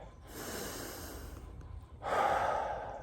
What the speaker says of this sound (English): I want to get a good breath